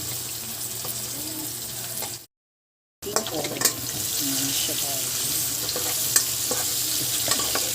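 Vegetables with fried pork sizzle steadily in a hot pan with scraping stir sounds and occasional clinks; a brief silent gap interrupts the continuous frying.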